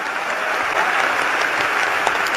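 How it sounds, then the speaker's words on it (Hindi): An audience claps together in a sustained burst of applause at a Ram Katha gathering. The clapping is dense and steady, carries on for a couple of seconds and stays fairly loud throughout, with no voices over it. "एक बार ताली बजाओ"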